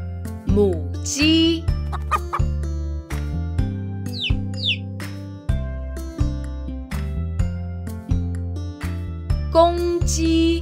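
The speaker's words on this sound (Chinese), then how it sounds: "母鸡。" Hen clucking in short, pitched calls scattered over a loud, bouncy children's music backing that runs throughout.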